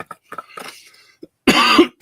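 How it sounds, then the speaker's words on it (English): A person's coughing fit: several close, harsh coughs and throat-clearing bursts in quick succession with short gaps. "We just hit the 2-hour mark and I had a coughing fit."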